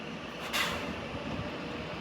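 An Avanti train moves through London Euston station on a snowy evening, heard as a faint, steady rumble of wheels and carriages from a distance, with a brief hiss partway through and no voices.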